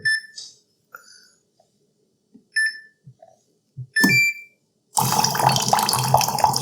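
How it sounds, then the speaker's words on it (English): A Waterdrop RO A1 reverse-osmosis filter beeps several times, then hot water at about 203 degrees pours steadily into a cup, a loud continuous splashing stream filling the final seconds. "And we're going to dispense 203-degree water."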